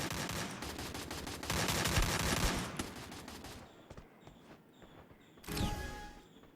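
Video game gunfire with an M4A1 rifle: dense, continuous automatic shooting and blasts for a few seconds, then quieter scattered game sounds before another loud burst near the end.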